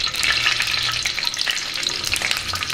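Whole cloves, cinnamon stick and cumin seeds frying in hot oil in a pan for green peas masala curry, a steady bright sizzle with small crackling pops, close and alone.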